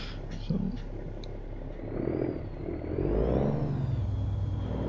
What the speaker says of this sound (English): this engine is loud as hell